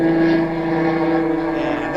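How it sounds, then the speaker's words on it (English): A droning airplane sound effect hums with steady engine-like tones on a 1949 children's record, sustained and fairly loud, with a rising tonal sweep at the end. "And first, we're an airplane."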